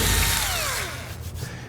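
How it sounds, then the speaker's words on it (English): A power drill bores a pilot hole in drywall for an anchor, motor whining close by with pitch sliding downward as the bit bites, then settling into a lower, rougher hum. "drill a pilot hole"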